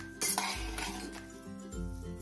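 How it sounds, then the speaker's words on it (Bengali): Semolina, yogurt and cooked rice being stirred together in a bowl for instant dosa batter, with a spoon scraping and clinking against the bowl in repeated close strokes, no talking. "সুজি, দই ও ভাত একসঙ্গে ভালো করে আমি মিশিয়ে দেবো।"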